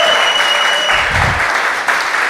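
Audience at a stand-up comedy show clapping steadily in a brief, even burst of applause.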